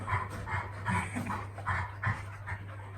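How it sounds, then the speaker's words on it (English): A dog pants in quick, soft bursts with a few low woofs mixed in, close by and moderately loud, amid a household play session. "I don't need you woofing"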